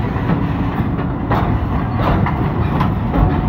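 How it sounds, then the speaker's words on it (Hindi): A train coming in on the main line at a railway station is heard as a steady, broad rumble with faint rhythmic rail clatter, moderately loud and continuous without any talk. "ये दूर हमारी 18 डाउन ऑन मेन ट्रैक आती हुई नज़र आ रही होगी"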